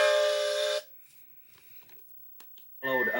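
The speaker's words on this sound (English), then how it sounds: "he wouldn't stop whistling until 2 fitters climbed" Gordon, the big steam engine from Thomas the Tank Engine, blows his whistle. There are two loud, sustained shrill blasts separated by a near-silent gap.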